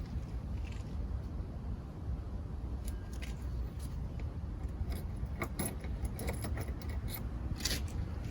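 Keys jangle and click at the trunk lock of a Mercedes W123 300D, with bright metallic rattles growing denser in the second half over a low, steady background rumble.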